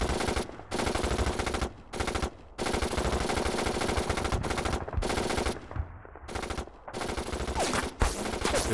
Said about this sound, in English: As the gunners fire from the jeep at the enemy around it